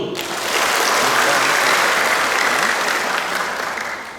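Applause from a student audience for the Vice Governor of East Nusa Tenggara at a university motivational talk, steady dense clapping that swells and holds for several seconds with no speech over it.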